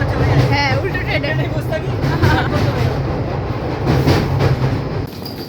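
A train rolls along the rails on a journey home, with a steady rumble and rhythmic clatter of the carriages, while passengers talk and chatter over the noise inside the car.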